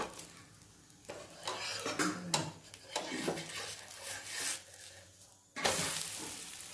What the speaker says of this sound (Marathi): आता हे पलटून घ्यायचं आहे।